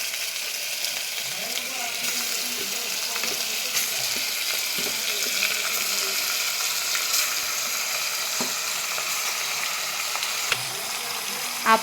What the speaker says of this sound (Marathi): आपण या मटणाला आता चांगलं तळून घेऊया।